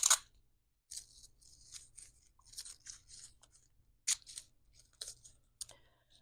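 Short ripping bursts of adhesive tape pulled and torn off a roll at an art studio workbench, several crisp broadband rips spread over a few seconds, close and fairly quiet, with no talking.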